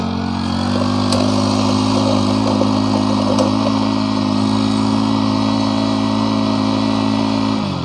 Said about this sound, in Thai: เปิดสวิตช์ออนสตาร์ทติดง่ายนะครับเครื่องนิ่มๆเลย